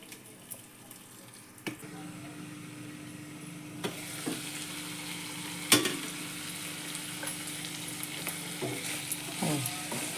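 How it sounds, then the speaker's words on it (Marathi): Bell pepper sautéing in oil in a pan, a low steady sizzle with a few sharp scrapes and clinks of stirring scattered through, moderately quiet and close, with no talk. "मस्त त्या तेलामध्ये ही भाजी छान परतून घेतली आपण आणि ती वाफवते त्या तेलातच"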